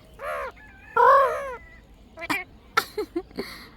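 A pet parrot imitates a crow, giving two loud, harsh caws followed by a few shorter clipped squawks and clicks, close by in a quiet room.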